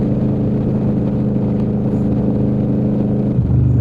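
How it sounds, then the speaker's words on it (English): A V4 four-cylinder engine on an abandoned machine idles smoothly with a steady low rumble and even drone, close and fairly loud, shifting slightly in pitch near the end. "Such a smooth engine though. That V4, 4-cylinder, it's a V, 2 on the front, 2 on the back."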